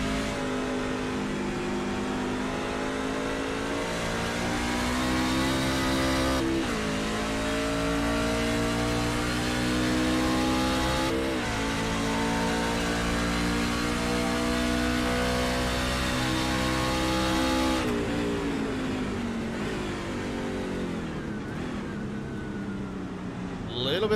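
Race truck engine on the Indy road course, a steady loud drone that dips briefly as the RPMs drop into a corner, with a commentator talking over it.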